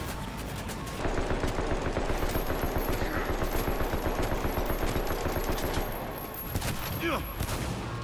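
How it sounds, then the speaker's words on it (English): A heavy machine gun fires in sustained rapid bursts in Cyberpunk 2077, loud and close, the dense stream of shots running for several seconds before breaking off near the end. "Oh, yo, a heavy machine gun?"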